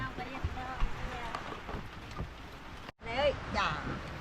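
Rain falls steadily in a rural village in the cold, a soft continuous patter with a brief dropout near the end, under a voice speaking.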